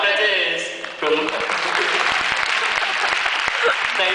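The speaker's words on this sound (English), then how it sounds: "Thanks for the unexpected applause." An audience bursts into applause at a school team presentation, the clapping swelling after about a second into a steady, dense roar that fills the room, with a voice talking over the start.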